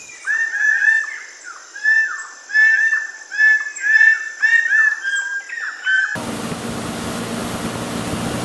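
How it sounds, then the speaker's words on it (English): Several birds call in Sepik lowland rainforest in Papua New Guinea, with loud, repeated whistled and chirping notes in irregular phrases nearby, giving way to a steady broadband hiss of rain or insects. "And we listen also the birds."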